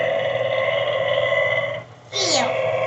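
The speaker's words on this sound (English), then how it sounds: "It's still burping." A Burping Bobby toy plays a buzzy electronic tone that drops briefly, then gives a short, rising and falling synthetic burp, loud and close, with a voice mixed in.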